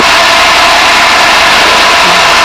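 Steady drone of an RV-6A light aircraft engine during formation flight, loud and continuous with a hissy, wind-filled character and no talking.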